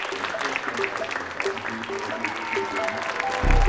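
A crowd claps in steady, dense applause that runs throughout, mixed with tonal music-like sounds and swelling slightly at the end.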